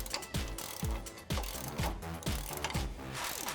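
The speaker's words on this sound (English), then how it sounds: "we're gonna take a ratchet and a 21mm socket and just tighten that down" A hand ratchet with a 21mm socket tightens the flag nut on a Jeep Wrangler JK suspension lift, sounding as rapid, close clicking strokes in a steady back-and-forth rhythm of about eight pulls.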